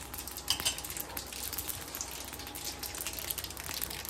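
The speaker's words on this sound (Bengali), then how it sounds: "পোস্তটা তেলের মধ্যে দিয়ে একটু নেড়ে চেড়ে নেব" Poppy seeds stirred in hot oil over a very low flame give off a faint, steady crackle with light scraping ticks throughout, no voices.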